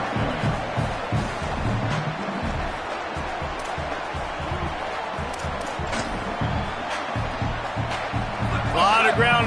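Football stadium crowd roaring for the defense, a broad sustained rumble of many voices at steady loudness, with an announcer talking over it.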